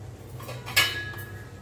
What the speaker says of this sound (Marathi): आता मी झाकण लावून ठेवते, 5 ते 7 मिनिटांनी बघते।